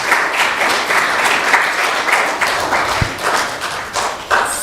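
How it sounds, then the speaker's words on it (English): An audience at a Gita Jayanti gathering applauds after a class, a dense, steady wash of many hands clapping that holds for several seconds at close, loud level, with a single heavier thump near the middle. "Please give a big round of applause."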